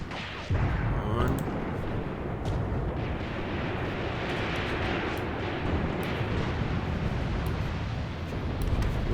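Guns in Graviteam Tactics firing on a BT-7 tank in 1942 Kharkov trench fighting, heard as a dense, continuous roar of blasts and rumbling battle noise that stays loud throughout.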